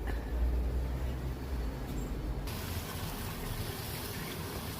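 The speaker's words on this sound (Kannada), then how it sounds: "ಕುದೀತಾ ಇದೆ ನೋಡಿ ಬೆಣ್ಣೆ." Butter boils on a stove with a curry leaf added as it turns into ghee, a continuous dense hiss of bubbling that brightens partway through.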